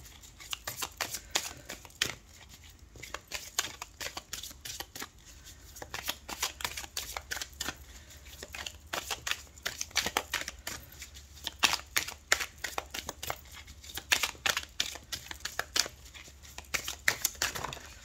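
Playing cards are shuffled and drawn over and over in a rapid, crisp riffling patter of close, dry flicks and snaps. The sound continues steadily with only brief pauses.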